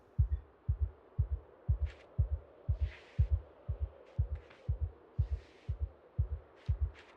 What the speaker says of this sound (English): Even with his claustrophobia heartbeat in the background.